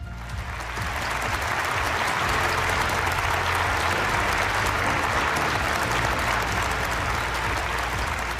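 An audience at a panel discussion event bursts into dense, sustained applause that quickly swells and stays loud and even throughout.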